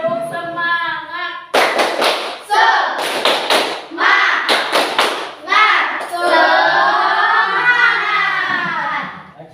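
Classroom of children doing a rhythmic spirit-clapping chant, sharp bursts of hand claps and slaps in patterned groups, mixed with a teacher's and children's chanting voices throughout.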